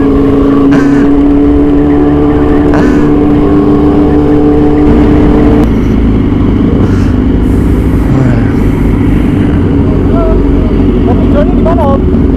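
Motorbike engine running steadily while riding through city traffic in Jakarta, a loud continuous low drone that stays close throughout, with voices talking over it.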